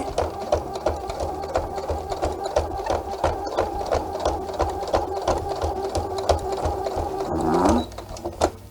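A sewing machine runs fast and steady in a crazy-quilt sewing lesson, its needle hammering in a quick even rhythm close up, with a brief slowdown near the end.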